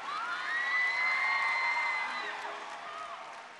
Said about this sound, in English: Deja Vu Breakers, round of applause